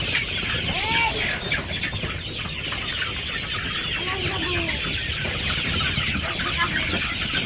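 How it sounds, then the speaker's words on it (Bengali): A flock of growing chickens clucking continuously close by, overlapping calls with a rooster-like note in a busy village yard. "আমাদের মুরগিগুলো আস্তে আস্তে মাশাআল্লাহ বড় হয়ে যেতেছে"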